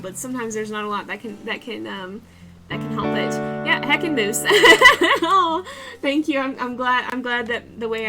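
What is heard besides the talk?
None of the usual background noises is heard.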